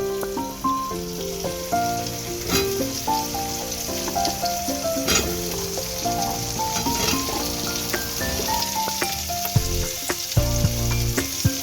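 Potatoes fry in a pan for a light chicken curry, a steady bright sizzle running beneath a prominent melodic music track with no voices.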